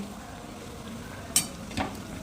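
Thekua fry in a pan with a low, steady sizzle, broken by two sharp clinks of a utensil against the pan.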